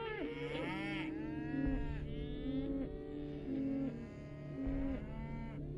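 Several cows mooing in succession, long drawn-out lowing calls overlapping one another, fairly close, against a low background hum.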